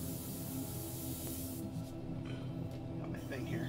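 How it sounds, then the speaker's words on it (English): Black spray paint hisses steadily from an aerosol can while a Steel Legion Chimera miniature is being painted, a continuous broadband spray that carries through most of the moment before tapering off near the end. "So I'm gonna spray that out."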